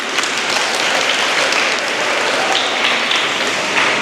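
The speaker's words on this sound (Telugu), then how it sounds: "ఆ విషయానికి చప్పట్లు కొట్టాలి" A crowd at a Sri Krishna Janmashtami celebration claps, filling the space with steady, dense applause that stays loud and even throughout, with no clear voices above it.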